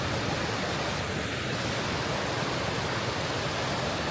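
Pala U waterfall in Kaeng Krachan National Park roars as a steady, dense rush of falling water, loud and unbroken throughout with no voices.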